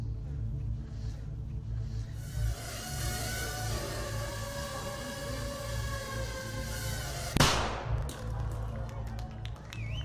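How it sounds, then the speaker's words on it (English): A small 3-gram shaped explosive charge goes off as a single sharp bang near the end, a brief broadband burst standing out over a steady low background drone. "That little bang is enough to penetrate the skull and destroy the contents."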